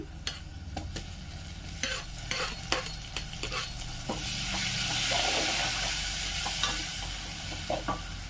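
Tomatoes hitting a hot frying pan for a bean-seed khichdi, with repeated close spoon clatter and scraping, then the sizzle swelling into a louder steady hiss midway before stirring taps return.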